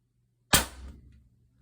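A single loud HDR68 less-lethal launcher shot with a 16J valve at 850 HPA, a sharp close report that decays over about half a second, with no talking.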